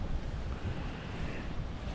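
Gusty wind buffets the microphone on a walk through a garden on a rainy May morning in central New York, a loud continuous roar with no voices.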